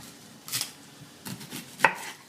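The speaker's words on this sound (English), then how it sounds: "We're also going to cut this onion." A knife chops through an onion on a cutting board: a few separate crisp cuts with board knocks, spaced irregularly, close and clear, no talking.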